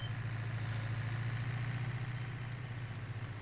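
A Fiat tractor engine in Farming Simulator 19 drones steadily at idle or low revs, a continuous low hum with no break, loud and close throughout.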